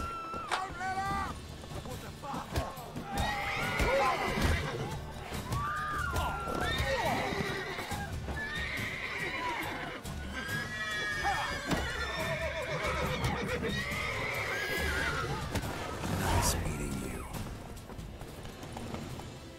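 The horse Roach in the video game The Witcher III: Wild Hunt neighs and whinnies repeatedly over clip-clopping hooves, loud and close, with game music and voices underneath.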